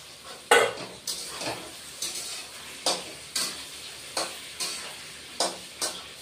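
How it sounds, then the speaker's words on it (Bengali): Pointed gourd frying in oil in a wok gives a soft sizzle, broken by a steady run of separate stirring scrapes about every half second, with no talk. "এখন আগে পটলটা ভেজে নেব"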